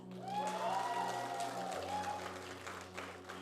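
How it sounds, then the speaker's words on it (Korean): Audience clapping for a contestant at a beauty pageant, a moderate crowd applauding steadily under sustained background music with a sliding tonal swell, the clapping fairly distant. "뜨거운 박수 부탁드립니다"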